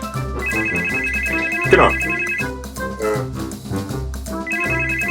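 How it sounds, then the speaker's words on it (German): A telephone rings with a repeating electronic ringtone pattern in bursts, fairly loud, over a musical background, with a brief spoken word mixed in. "Also das Telefon nervt mich heute."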